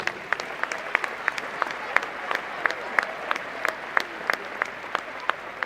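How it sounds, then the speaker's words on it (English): An indoor crowd at an African hockey cup tournament applauds steadily, with many distinct sharp claps standing out from a continuous wash of clapping throughout. "If we could please give all of them a round of applause."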